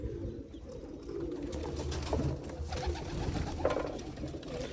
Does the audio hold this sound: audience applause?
no